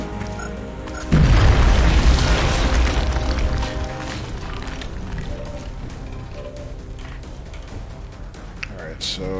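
A grenade goes off in XCOM: Enemy Unknown with a loud, deep boom that starts abruptly and rumbles on for a couple of seconds before fading into lower game noise, with voices talking throughout.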